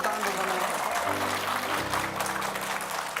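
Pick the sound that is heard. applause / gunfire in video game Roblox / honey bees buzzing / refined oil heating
applause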